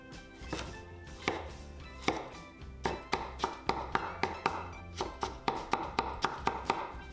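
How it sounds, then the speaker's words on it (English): A knife chops and minces garlic, chili pepper and carrot on a cutting board, with irregular sharp taps that quicken into a steady rapid rhythm, close and clear, with no talking. "Mince the garlic. Chop the chili pepper. And julienne the carrot."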